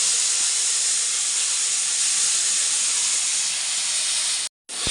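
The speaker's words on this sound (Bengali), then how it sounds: "দেওয়ার পর এখন আমি পেঁয়াজের পেস্টটা কড়াইয়ের মধ্যে দিয়ে দেবো।" Onion paste hits hot oil already seasoned with two cardamom pods in a kadai, giving a loud, steady, hissing sizzle that holds unbroken for over four seconds before cutting out abruptly near the end.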